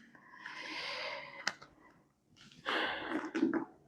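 A single person sniffs hard through the nose in a quiet room, one drawn-out, breathy inhale followed after a short pause by a second, louder snorting sniff, close and with no talk.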